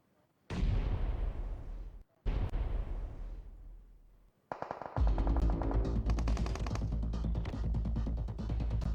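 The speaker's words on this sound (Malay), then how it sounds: "Letupan bom tangan hampir mendapatkan Karilo." Battle royale video game combat: a grenade explosion and gunfire ring out as loud booming blasts, then dense rapid bursts of shots continue with no talk.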